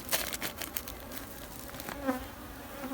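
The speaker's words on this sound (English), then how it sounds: "Nothing like laying on your back under here cutting a bunch of bees out, just letting them fall on you." Dense buzzing of many bees close by as they are cut out of a hive overhead, a steady insect drone with scattered rustling taps and no speech.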